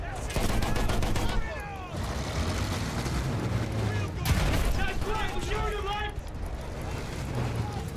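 Battlefield 1 covering gunfire rattles almost continuously: a dense, loud mix of rifle and machine-gun shots with occasional heavier booms over battlefield din, while voices talk through it.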